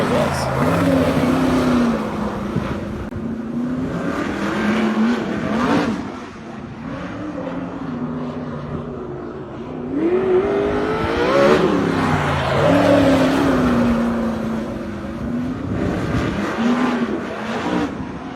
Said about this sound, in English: they turned the final corners in front of the pit road at Sonoma into an oval track and went full send with their sprint cars